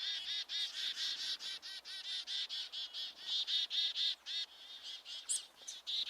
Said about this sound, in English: they are called chickadees because they say their name when they're singing